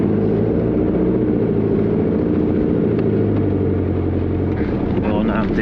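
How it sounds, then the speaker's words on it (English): A 4WD vehicle engine labours loudly on a trail while its tyres spin, giving a constant heavy low rumble with a steady drone, close and unbroken, with wind buffeting the microphone. "as the tyres start to spin, you want to stop"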